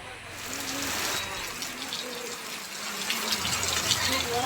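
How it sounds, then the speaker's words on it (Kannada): Heavy rainwater floods into village homes in Machanur, a steady gushing rush of water running throughout at moderate level, with faint voices underneath. "ಮಾಚನೂರು ಗ್ರಾಮದಲ್ಲಿ ಮನೆಯೊಳಗೆ ನುಗ್ಗಿದ ಮಳೆ ನೀರು"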